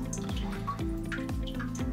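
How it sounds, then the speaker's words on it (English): Water drips steadily off an unwaxed kayak paddle, producing a quick run of close, distinct plinks and drops falling in an irregular but rapid rhythm, with no talking. "A lot more dripping off on this one."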